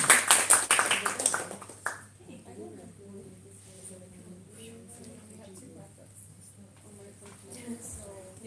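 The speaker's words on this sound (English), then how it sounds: "let's give ourselves a round of applause" Loud clapping at an install fest for a round of applause, lasting about two seconds and stopping abruptly, after which quiet speech continues.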